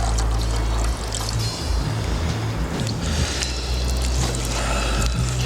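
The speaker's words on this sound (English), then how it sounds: "We cooked these just a little bit, so we'll strain off." Water from a pot of just-cooked pasta pours off through a strainer in a continuous, close, fairly loud rush with no talk over it.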